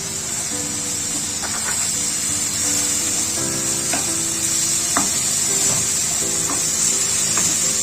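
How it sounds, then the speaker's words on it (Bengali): Spices frying with green chilli and cumin paste for a banana-blossom dish, a loud steady sizzle and hiss close up, with occasional spatula scrapes and stirring knocks and no speech. "মশলাগুলো খুব ভালোভাবে কষিয়ে নেব। এখন আমি এর মধ্যে দিয়ে দেবো কাঁচা লঙ্কার কাঁচা জিরে বাটা।"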